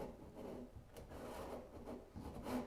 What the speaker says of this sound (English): I am cutting sliding dovetails